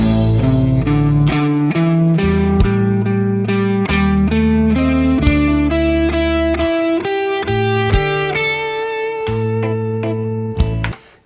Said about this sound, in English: We're just going to take the scale and play some notes more than others.